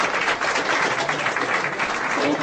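Steady, dense applause fills a football association's awards ceremony as a prize goes to the best UEFA assistant referee, continuous and fairly loud with no voices over it.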